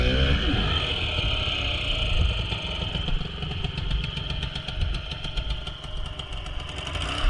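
Engine revving while a vehicle stuck in slush is pushed, a close, rough running drone with fluctuating throttle and scraping, churning noise.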